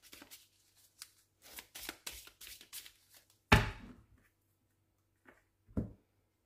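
Hands shuffling and cutting a deck of oracle cards during a reading, with a quick flurry of close card riffles and taps, then one sharp snap and a few softer handling sounds with pauses between.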